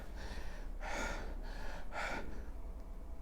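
A doctor imitates a breathless cardiac patient's labored breathing, giving two heavy, rasping gasps about a second apart over a faint background hum, with no speech.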